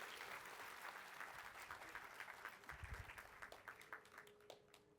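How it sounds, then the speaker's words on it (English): A crowd at a startup launch event gives a round of applause, sustained broad clapping that stays full and gradually thins toward the end. "A huge round of applause, everyone."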